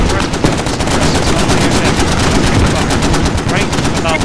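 Rapid bursts from a Marine .50 caliber machine gun mixed with Mk19 grenade launcher fire during an anti-armor suppression drill, loud, close and continuous for several seconds, with sharp distant reports layered in.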